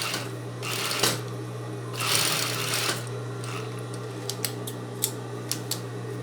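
A domestic sewing machine stitches a zipper onto fabric, running in a few short bursts of steady whirring, followed by small sharp clicks and taps as the fabric and presser foot are adjusted, close and moderately quiet.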